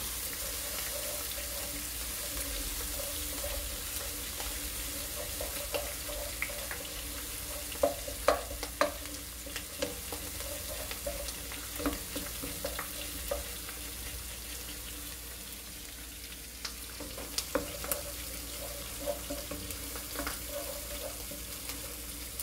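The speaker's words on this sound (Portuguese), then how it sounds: "A carne continua fritando" Meat frying in a pan while cooking a Sunday lunch, a steady low sizzle running throughout with scattered pops and clinks of stirring and utensils, fairly faint and with no talking.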